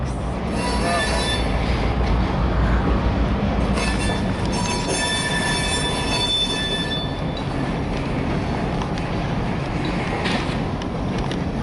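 CN freight cars roll past steadily with a constant rumbling roar, wheels grinding and squealing faintly along the rails throughout.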